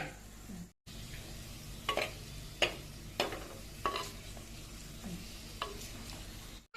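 Onion frying in hot oil for a dry-fish dish, a steady low sizzle broken by several sharp clicks and scrapes of stirring, with a brief silent gap near the start.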